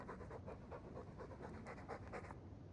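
Dog panting in Dragon Age II, a steady, rapid rhythm of breathy huffs that carries on without a break, close and fairly loud, with no talking over it.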